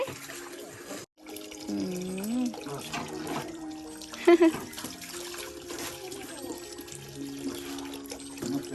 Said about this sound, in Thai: น้ำบาดาลน้ำอันนี้กินได้